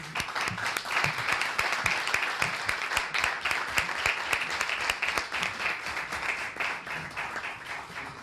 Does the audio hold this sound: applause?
yes